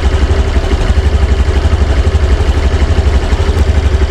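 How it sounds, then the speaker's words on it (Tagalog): Steady close-up idle of a restarted Honda Genio motorcycle with an anti-theft immobilizer: an even, low throbbing putter that stays constant and loud throughout, with no voices. "Ayan, nag-start ulit yung motor."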